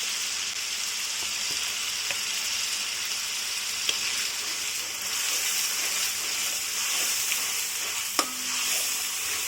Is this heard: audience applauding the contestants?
no